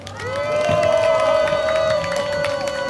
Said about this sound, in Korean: 다 함께 박수로 이성구 목사님 맞으시기 바랍니다.